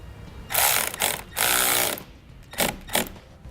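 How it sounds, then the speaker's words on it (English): Tightening the clamp nut on a Roadmaster automatic battery disconnect cable in a 2009 Jeep Liberty, heard as several loud bursts from a power tool, then two shorter bursts near the end. "Then we can tighten up both the clamp nut and the nut that's holding the cable in place."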